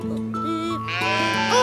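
Several sheep bleat from inside a sheepfold, one long wavering call following another and then overlapping, loud and close with no talk over them.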